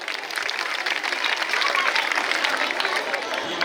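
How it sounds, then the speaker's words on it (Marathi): An audience at a village gathering claps for teachers, a dense, steady burst of applause that fills the whole stretch, with some crowd murmur beneath it. "त्यांच्यासाठीही आपण टाळ्या वाजवल्या पाहिजे"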